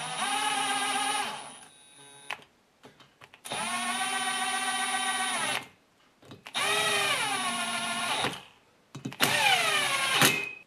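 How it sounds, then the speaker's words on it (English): An impact driver on its lowest speed runs screws into the engine block of a Stihl 4-MIX BR500/BR550/BR600 leaf blower in four whirring bursts, each a steady motor whine separated by short pauses and small clicks. "Now I'm just going to start the screws with my impact on its lowest speed."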